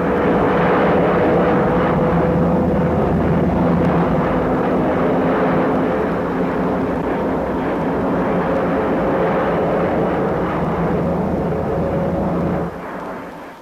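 A fixed-wing airplane, cleared for takeoff by control tower radio in an Australian aviation setting, holds a loud, steady engine drone with a faint tonal whine for about thirteen seconds before it cuts off sharply near the end.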